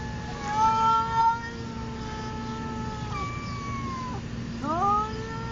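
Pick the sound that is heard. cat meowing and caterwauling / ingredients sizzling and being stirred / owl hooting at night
cat meowing and caterwauling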